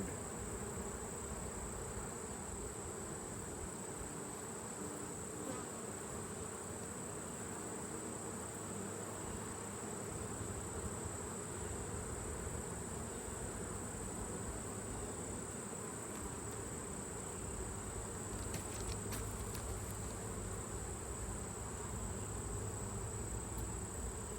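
Honeybees buzz in a continuous, dense drone while combined hives are opened for an October inspection, steady and close with no pauses.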